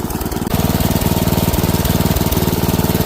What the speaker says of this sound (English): Now take your angle grinder and just start going to town with it.